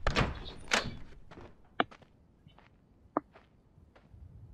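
A door opening in The Last of Us, heard as a few soft thuds and latch clicks with two sharp knocks in the middle, close and clear, with no talk over it.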